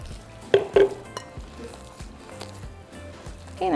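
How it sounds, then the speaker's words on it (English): Instant corn masa being stirred by hand with hot water and beet water in a kitchen, giving soft wet squishing and scraping in an irregular rhythm, with a couple of louder knocks against the bowl. "And now we're going to add our beet water. And just slowly begin to mix it."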